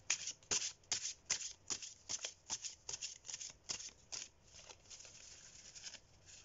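A deck of large oracle cards is shuffled in rapid, crisp riffling flutters, quiet and close, with short pauses between passes.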